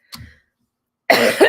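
A man coughs once briefly, then after a second of silence gives a louder, rougher cough with a throat-clearing quality, close and alone.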